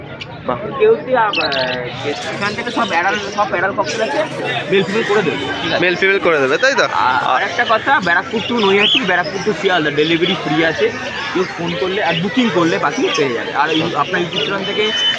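Caged birds, including cockatiels for sale, chirping and tweeting at a busy bird market in Naihati, with rapid overlapping calls throughout under loud, steady crowd chatter and people talking nearby.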